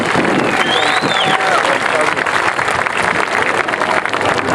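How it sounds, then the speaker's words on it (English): Sustained applause from an audience at a South LA community meeting, honouring a sergeant, with a dense steady wash of clapping at close range running throughout and some crowd voices mixed in. "Give him another round of applause."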